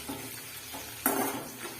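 Green chillies and curry leaves for a tempering in a pan of poha chivada fry with a steady sizzle, and a stir sharply louder midway, with no voices.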